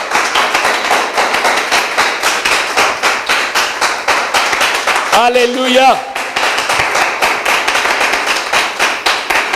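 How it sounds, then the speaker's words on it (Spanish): A church congregation applauds loudly and steadily, a dense, continuous wash of handclaps close around, briefly broken by a voice calling out in the middle before the clapping resumes. "Denle un aplauso al Señor bien fuerte"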